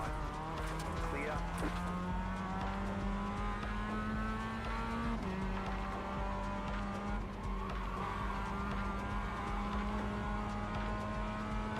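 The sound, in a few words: Mazda race car engine revving in video game iRacing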